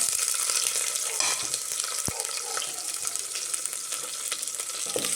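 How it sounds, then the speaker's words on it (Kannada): Onion with chopped ginger and garlic frying in a pan, a soft continuous sizzle with crackles and one sharp clink partway through, no voices. "ಇವಾಗ ಸ್ವಲ್ಪ ಶುಂಠಿ, ಸ್ವಲ್ಪ ಬೆಳ್ಳುಳ್ಳಿನ ಕಟ್ ಮಾಡಿ ಹಾಕ್ಕೊಂಡಿದ್ದೀನಿ. ಅದಕ್ಕೆ ಒಂದು ಈರುಳ್ಳಿ ಹಾಕ್ಕೊಳ್ತಾ ಇದ್ದೀನಿ."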